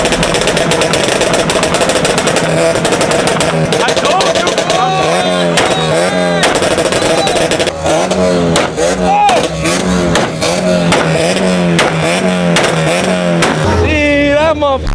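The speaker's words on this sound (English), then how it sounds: "One nigga rev, everybody start revving, bro." Cars revving their engines at a crowded car show, including VQ-engined cars, with loud repeated revs and roars rising and falling over continuous crowd chatter and talk throughout.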